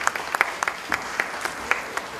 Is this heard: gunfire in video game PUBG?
no